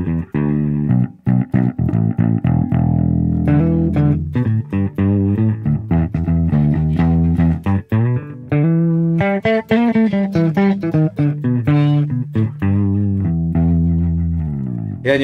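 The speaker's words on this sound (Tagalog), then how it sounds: "Yun yung tunog ng SX Vintage Series na jazz bass." A five-string SX Vintage Series jazz bass played through its bridge pickup, with a mid and high-mid focused tone. Loud continuous melodic bass lines and runs fill the clip with no talking.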